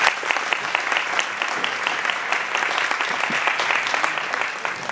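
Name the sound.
applause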